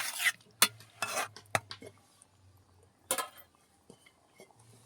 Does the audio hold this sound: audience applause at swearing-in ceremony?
no